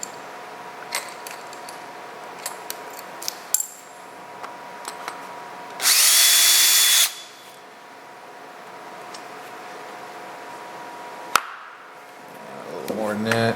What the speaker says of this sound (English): it's not any particular countersink diameter, it's just to break the edge for a little lead in